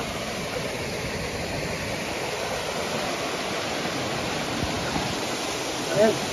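Water pours steadily over a small waterfall near Venkatapur in Mulugu district, giving a continuous broadband rush with no pauses.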